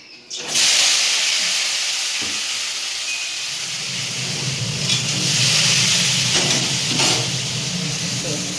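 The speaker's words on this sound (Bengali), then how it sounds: "আগে আনাজগুলো ভাজতে দিয়ে দিই" Vegetables sizzling and hissing loudly in a hot pan on a home gas stove, a steady broadband fry with occasional stirring scrapes, close and continuous with no talking.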